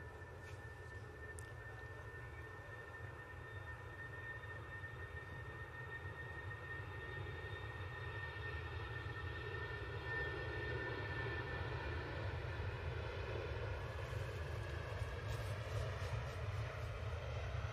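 A Jet2 Boeing 757 departing, a distant steady engine roar with a faint whine, holding fairly even and slowly building toward the end, no talk.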